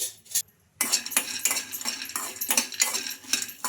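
Peanuts with garlic and ginger fried in a kadai: after a brief near-silent gap, a ladle scrapes and clatters against the metal pan in quick repeated strokes, with only a faint sizzle beneath and no speech.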